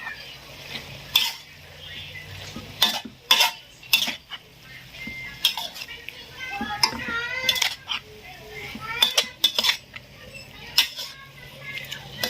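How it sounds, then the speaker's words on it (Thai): Chicken giblets stir-fried with plenty of holy basil, a metal spatula clanking and scraping against the pan in irregular bursts over a soft sizzle, with faint background voices. "ผัดให้สุกก็ใช้ได้ครับ"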